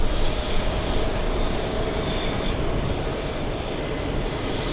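A jet airliner taxis toward the takeoff runway at JFK airport on a hot afternoon, its engines giving a steady, loud, broadband roar with a faint whine and no talk.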